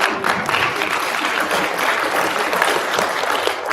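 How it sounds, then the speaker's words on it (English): Enthusiastic clapping from a crowd, dense and continuous for a few seconds, close and fairly loud with no talking. "Clap for yourself."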